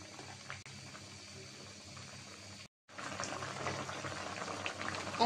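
A pot of puti fish and radish curry simmers with a soft, steady bubbling and hiss, cut by a brief silent break midway before the bubbling returns slightly louder.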